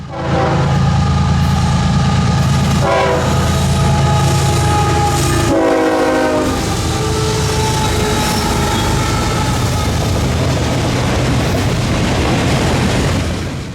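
A loud FEC freight train rumbles past close by, its horn blaring in long sustained blasts over the heavy roar of wheels and cars.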